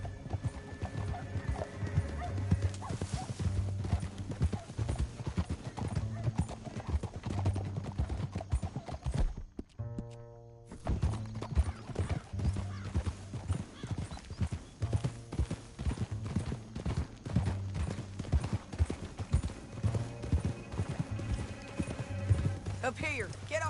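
Horses' hooves clip-clopping across terrain in the Red Dead Redemption video game, a busy, continuous trotting rhythm with an occasional neigh and a brief lull midway, under in-game talk and music.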